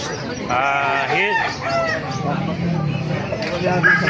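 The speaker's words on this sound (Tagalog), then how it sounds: "Ganda ng mga manok, oh." Chickens and gamecocks clucking and crowing at the Bocaue tiangge market, several birds close and lively over one another, with someone talking throughout.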